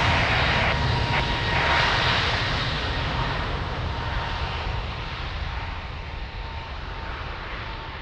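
A fixed-wing airplane at Lisbon Airport roars loudly during takeoff or landing, a steady broadband engine rush that fades slowly as it passes by.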